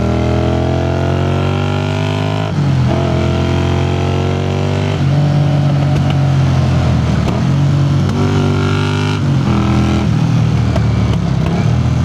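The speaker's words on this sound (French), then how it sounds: "Et le bruit est juste somptueux, alors ça pétarade à n'en plus finir." A 1981 Honda CX400C motorcycle engine runs loud and close for a long stretch, its steady revving tone rising and dropping in repeated surges with crackling pops and backfires between them.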